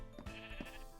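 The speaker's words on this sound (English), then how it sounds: "This sheep is gonna drive me mental." A Minecraft sheep bleats several times in quick bursts, close and clear over a steady game background, with no talking.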